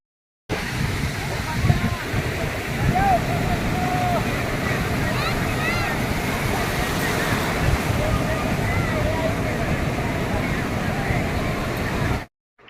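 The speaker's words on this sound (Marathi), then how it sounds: "समुद्रावरच्या भन्नाट लाटा थंड थंड हवा" Sea waves at Murud beach near Dapoli, a loud, steady surf roar with wind that carries on evenly for several seconds before cutting off.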